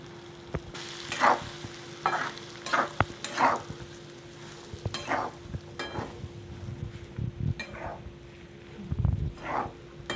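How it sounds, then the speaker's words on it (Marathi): Stuffed bitter gourds sautéing in oil, a light frying crackle under intermittent scraping strokes of a spatula, with a steady electrical hum and a brief faint dog whimper in the background. "आता याला थोडा वेळ परतून घ्यायचं आहे"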